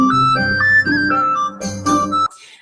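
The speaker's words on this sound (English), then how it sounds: "this little flute. It's called a dizi," Dizi, a small Chinese bamboo flute, playing a short bright melody with sustained, slightly buzzy tones that glide between notes, loud and close, ending abruptly after a few phrases.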